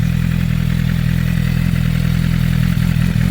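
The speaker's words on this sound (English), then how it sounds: "That's how the bike sounds." A warm motorcycle engine idles steadily in neutral after starting, a loud, even low rumble with a constant rhythmic throb and no voices over it.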